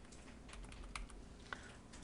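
Fingers tap a computer keyboard while text is entered in Photoshop, a quiet, close run of light clicks with two slightly sharper keystrokes, no voice.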